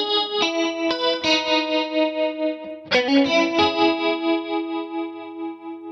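Electric guitar played through a Kemper Chora-Trem modulation effect, sounding as sustained, shimmering chord strums with one fresh attack near the middle, warm and wavering, with no voices.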